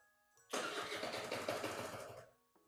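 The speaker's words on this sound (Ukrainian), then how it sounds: "Стартер працює, значить, тормоз працює." Starter motor cranking on a Gilera Runner 50 scooter, one close burst of whirring lasting under two seconds that rises abruptly and fades out, no engine catching and no voices.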